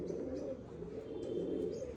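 A group of Andhra pigeons keeps up a continuous, soft, throaty cooing nearby, the overlapping murmurs forming a steady drone with faint chirps above it and no speech.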